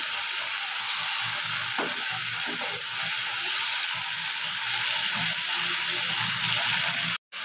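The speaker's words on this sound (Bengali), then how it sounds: "ভালো মতো মশলা দিয়ে কষা দিব।" Spices sautéing in oil for an egg and potato curry, a steady close sizzle with occasional scraping stir clicks, continuing alone without talk until a brief cut near the end.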